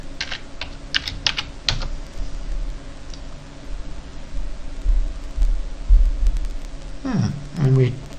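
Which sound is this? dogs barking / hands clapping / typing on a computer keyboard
typing on a computer keyboard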